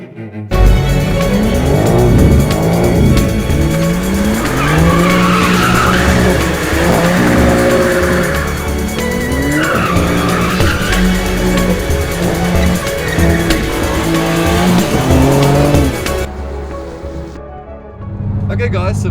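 BMW cars being put through test driving at a location in Mexico, with loud, sustained engine roar and repeated long tire squeals as they skid, close and continuous, while voices talk over the noise.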